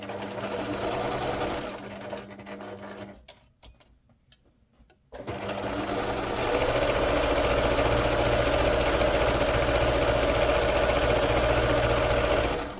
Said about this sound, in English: I also like to go back and forth with my sewing machine